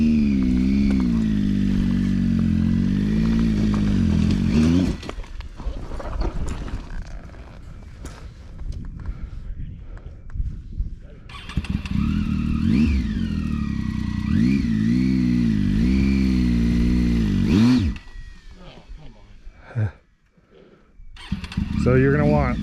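An adventure motorcycle engine on a hillside revs high and drops back several times with the clutch held in, loud and near, while people talk over parts of it.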